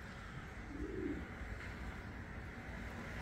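Pigeons cooing softly in a coop of Spanish pouter breeds, a low murmuring coo rising briefly near the middle over steady background hum.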